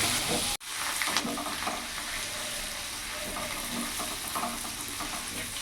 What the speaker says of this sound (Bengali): আলুটা লাল লাল করে ভেজে নিয়েছি